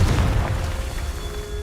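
A Confringo explosion spell going off in a video game, a deep booming blast with low rumble that fades out over about a second and a half, no voices.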